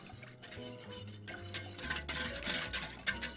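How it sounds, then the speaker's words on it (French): Dark chocolate sorbet mixture stirred in a pan, heard as a run of close, rhythmic scraping and clinking strokes of a utensil against metal that grow louder and busier toward the end. "on remue ça et on va le faire chauffer"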